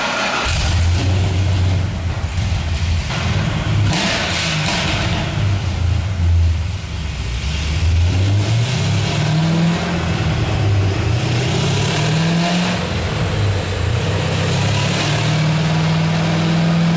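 A Corvette Z06 strapped to a dyno, its loud engine revving repeatedly, rising and falling in pitch through long pulls with brief drops between, close and dominant throughout.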